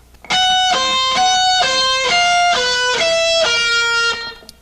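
A sustained run of high, harmonically rich electric guitar notes using a sharp fifth, with a gritty distorted edge, stepping through a short melodic phrase with no talking.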